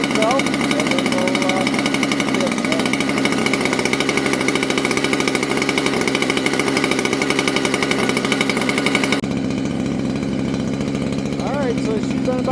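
A new Husqvarna 592XP chainsaw running on fast idle, its engine buzzing loud and steady with a dense rapid pulse, dropping slightly in pitch near the end, with a voice talking over it.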